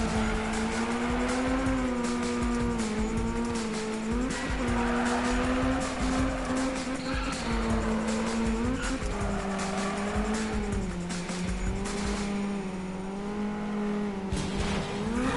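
Continuous tire squeal and skidding from a car in the Need for Speed racing game, a loud sustained screech riding over steady engine drone that rises and falls for the whole stretch, with no talking.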